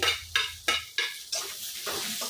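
Capsicum tossed into a hot pan for a dhaba-style aloo dish, with a string of sharp scraping stirs and clatters against the pan over a steady sizzle, close and fairly loud with no talking.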